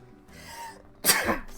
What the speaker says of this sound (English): Oh, I gotta sneeze.